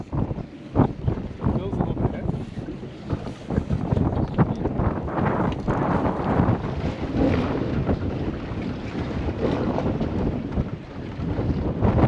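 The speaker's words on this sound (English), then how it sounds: "Bit windy, eh?" Gusty wind buffets the microphone out on a fishing boat, rough rumbling bursts rising and falling, with water sloshing and faint voices underneath.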